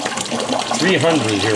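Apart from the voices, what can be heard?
massive water flow from an eShop 300 aquarium pump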